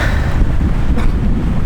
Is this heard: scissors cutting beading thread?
no